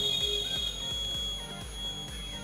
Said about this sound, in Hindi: अब हमारा बजर बजता है ना